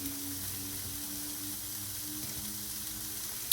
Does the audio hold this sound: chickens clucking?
no